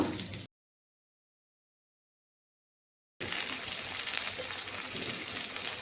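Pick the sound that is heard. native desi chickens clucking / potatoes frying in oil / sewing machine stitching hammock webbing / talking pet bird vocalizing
potatoes frying in oil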